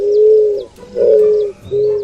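Eared doves (avoante) cooing in a series of three low, steady calls with short pauses between them, close and clear, with no talk.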